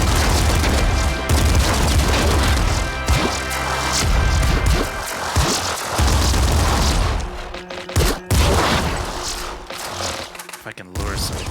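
Guns firing in the video game Nuclear Throne, dense loud bursts of shots, booms and crashes layered over busy game noise and music, with sharp impacts throughout.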